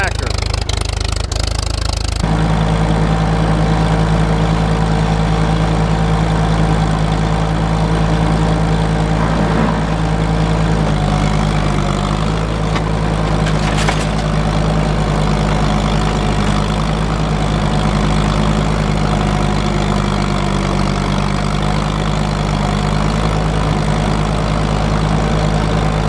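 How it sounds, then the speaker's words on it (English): An old farm tractor engine idles steadily and loudly up close, a low, even throbbing drone with a brief burst of louder noise at the start, continuing unchanged throughout. "Tractor's been running good."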